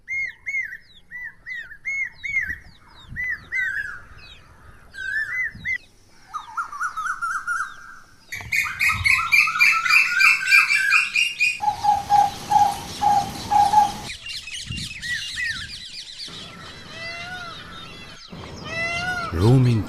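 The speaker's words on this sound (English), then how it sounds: "chirping munias, calling cuckoos and koel" Birds call in a row through Aravalli Biodiversity Park: munias chirp, and cuckoos and a koel sing repeated clear whistled notes, loud and close, one call type following another with little other sound.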